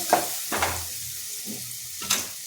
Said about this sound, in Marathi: टोमॅटो छानपैकी परतवून घ्यायचे